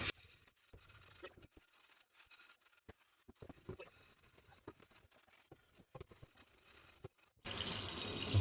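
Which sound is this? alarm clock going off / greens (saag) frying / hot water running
hot water running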